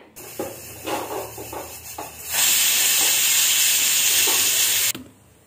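A few soft rubbing noises give way to a loud, steady hissing whistle of a pressure cooker making upma that holds for about two and a half seconds, then cuts off.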